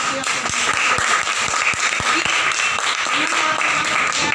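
Audience applause at a direct selling business presentation: a dense, steady wash of many hands clapping, with a few sharper individual claps standing out, sustained throughout with faint voices underneath.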